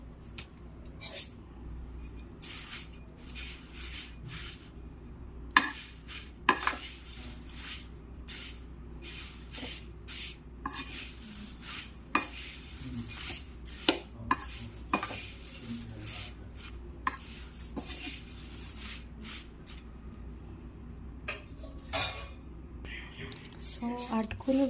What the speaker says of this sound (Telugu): మీడియం ఫ్లేమ్లో పెట్టుకొని అటుకులు వేయించుకుందాం